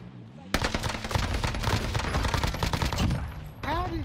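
Sustained close automatic gunfire in a Warzone Duos match, a dense rattling burst lasting about three seconds before cutting off, with game sounds and a voice afterward.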